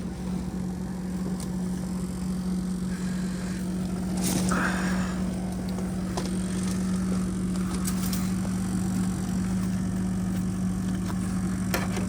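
A welder runs in a shop on a freezing cold day, giving a steady, unbroken hum with a low drone that holds for the whole stretch, with a few faint clanks on top and no talking.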